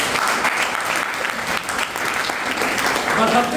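A crowd at a business motivational seminar claps continuously, a dense, loud and fairly even applause that fills the whole moment, with some voices mixed into it.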